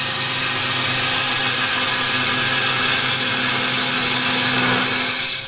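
Wood turning on a lathe: a gouge cuts into the spinning wood in a loud, continuous scraping whir over a steady motor hum, then eases off at the very end.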